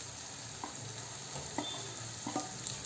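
Moong dal paste added to hot oil with curry leaves in a pan, a faint continuous sizzle with a few soft stirring scrapes spread across it, close and quiet.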